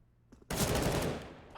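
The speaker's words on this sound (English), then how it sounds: "They've only got 1 SMG in hand, MAC-10 being used here by Consti." A single burst of MAC-10 submachine gunfire in a competitive shooter game, loud and dense for about a second and then fading.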